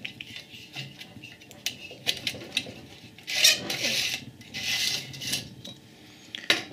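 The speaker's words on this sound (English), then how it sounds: "The transistors are actually stuck down on this until I prise them free." Transistors being prised off the heatsink of an APC SmartUPS VT 40kVA during a teardown: quiet scraping, rubbing and clicking metal sounds, with a few louder rasping bursts and a sharp click near the end.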